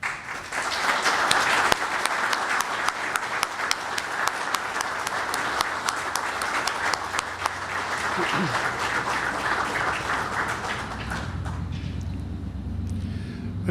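A crowd applauds steadily for about eleven seconds at a fire department ceremony honoring police and fire personnel, with some sharper claps standing out, before the clapping fades and a voice begins.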